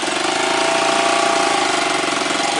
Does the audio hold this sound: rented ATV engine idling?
yes